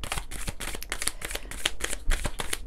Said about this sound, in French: on va prendre quelques cartes des arcanes mineurs de l'oracle de Laura.